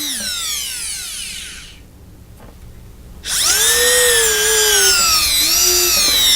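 Dental drill with a sharp Fisher burr cutting a hole in a pontic tooth for a Hawley retainer: a loud close whine that winds down, cuts out for about a second and a half, then spins back up and holds steady.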